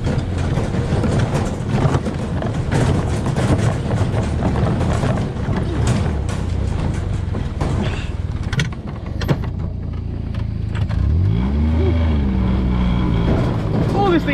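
A buggy engine roars steadily while driving over rough ground, a loud continuous rumble with rattling, plus a rising whine near the end as it revs harder.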